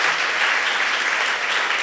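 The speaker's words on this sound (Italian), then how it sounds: "Facciamo anche un applauso per dargli un po' di riposo" An audience at a talk with an astronaut claps in a brief, dense, continuous burst of applause with no individual claps standing out.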